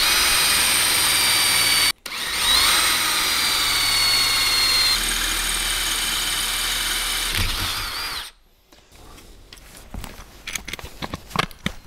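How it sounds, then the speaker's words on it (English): Power drill boring pilot holes for 1/4 inch bolts in a motorcycle sissy bar tail light and license plate bracket: a loud steady high whine for several seconds, a short break, then it winds down into quieter handling clatter. "Now we'll get our drill out and drill those holes."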